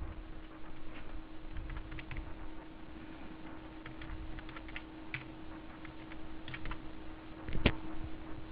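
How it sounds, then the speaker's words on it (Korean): Keys clack on a computer keyboard as figures are entered into accounting software, a steady run of light, quick taps over a constant low electrical hum, with one sharper knock near the end. "이제 직접 타이핑해서 넣어야 됩니다."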